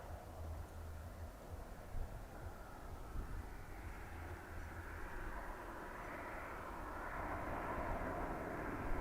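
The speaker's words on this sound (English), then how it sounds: "Ryanair from Lanzarote landing in the background." A Ryanair airliner arriving from Lanzarote comes in to land at Dublin Airport, its engines a steady broadband roar that swells gradually and stays loud throughout, with low rumble beneath and no speech.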